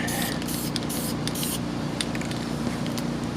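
Short hissing bursts of a spray can laying a light tacky coat of paint onto an intake manifold, a few quick puffs near and close up over steady background noise.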